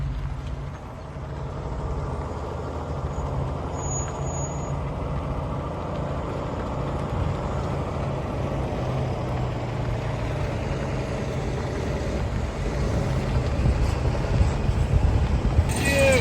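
Loaded concrete mixer truck pulling out on a narrow, soft road at a muddy job site, its diesel engine droning steadily and growing slightly louder, with faint voices underneath.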